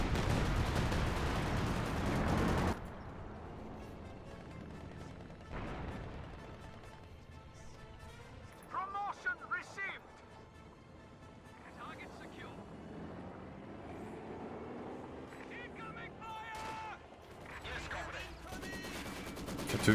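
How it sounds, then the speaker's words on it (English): Heavy artillery barrage in Company of Heroes 2, a dense roar of explosions for the first few seconds, then fading to quieter rumbling battle noise beneath a commentator's continuous talk. "Now we see the coordinated barrage once again used from the Panzer IV."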